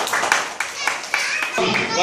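Children in a first-standard maths class clap their hands in a few quick, uneven bursts, fairly close, with a teacher's voice talking over and between them.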